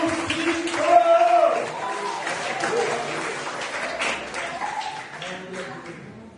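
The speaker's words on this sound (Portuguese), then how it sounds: "Aplauda! Aplauda!" A church congregation at a Tuesday evening service claps in a scattered, sustained patter that slowly tapers off. Voices and a preacher's speech mix in with the applause.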